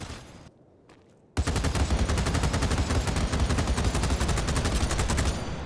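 Sustained rapid automatic fire from an RPK-16 machine gun in the game Battlebit Remastered, a loud dense burst of shots starting after a short quiet lead-in and running continuously to the end.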